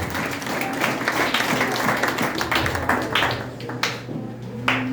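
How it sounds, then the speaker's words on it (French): A church congregation applauds in a steady, dense wash of clapping that holds for the whole stretch, with scattered louder claps and a faint voice underneath. "Applaudissez la parole de Dieu."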